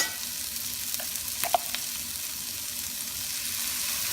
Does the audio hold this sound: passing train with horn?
no